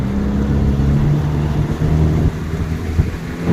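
A motorboat with Bennett SLT 6 trim tabs and a new 16-pitch prop gets throttle, its engine a loud, low rumbling drone with water and wind rush, surging slightly and then easing.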